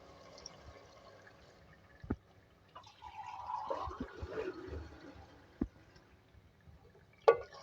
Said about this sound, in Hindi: इसके अंदर मैं पानी ऐड कर रही हूँ